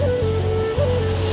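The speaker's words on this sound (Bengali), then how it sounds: "পানির শব্দগুলো শুনুন একবার।" Sea water washes along the Jeddah seashore in a steady rush of waves, joined by a low continuous drone, with no voices, over a brief stretch.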